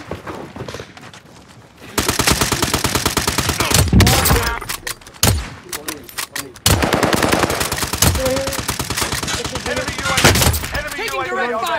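Loud rapid bursts of automatic and single-shot gunfire from a Call of Duty Warzone match on Rebirth Island, crackling almost nonstop after a quieter start, with players talking over the shooting.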